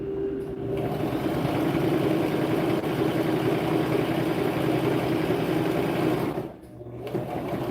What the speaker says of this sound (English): when you get to the end, you're going to sew and then make sure to back stitch.